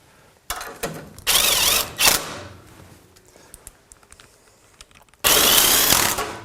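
Bolts being tightened with a power tool to fix the support of a Geberit One bathroom vanity cabinet. There are several short mechanical whirring bursts with pauses in between, then a final loud sustained run close by.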